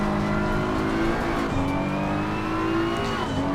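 Race cars, Audis and BMWs in a pack, driving on the Zandvoort circuit, engines revving and shifting as they pass close by, loud and continuous.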